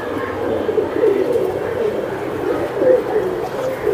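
Racing Giribaz pigeons coo in soft, repeated low throaty calls, close and steady, with a faint human voice in the background.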